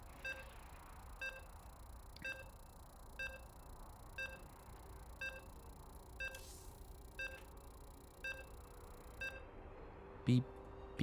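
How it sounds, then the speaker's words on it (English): Regular electronic beeps from a StarCraft 2 match, repeating about once a second in a steady rhythm over low game background noise, with a brief louder blip near the end. "Beep, beep, beep,"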